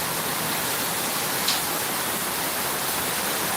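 Heavy rain pours down during a thunderstorm in Chengalpattu district, a continuous, broad hiss of downpour that stays even and close, with one faint brief tick partway through.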